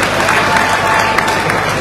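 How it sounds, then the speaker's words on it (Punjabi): A crowd claps at a Punjab political rally where a politician is speaking, a dense, continuous patter of applause heard close and loud with voices mixed in. "ਅਸਲੋ ਅਸਲੋ ਪਟਕਾ ਕੇ ਤਾੜੀ ਮਾਰੋ"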